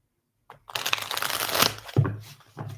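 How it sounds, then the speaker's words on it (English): Cards of a tarot deck being shuffled by hand in repeated riffling bursts with a soft papery crackle, fairly close, starting after a brief silence and pausing once midway. "I feel like I've been shuffling forever."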